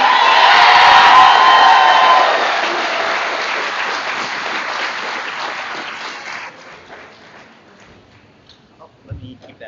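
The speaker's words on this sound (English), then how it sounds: "can we have one more round of applause for our graduates of 2025?" Graduation commencement crowd applauds and cheers for the class of 2025, a loud dense wave of clapping with whoops that fades over several seconds to scattered claps.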